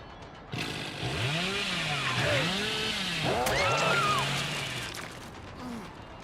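A chainsaw in the video game Dead by Daylight revs in repeated rising and falling surges, loud and close, for several seconds before trailing off.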